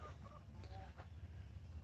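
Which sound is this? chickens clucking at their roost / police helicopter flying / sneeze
chickens clucking at their roost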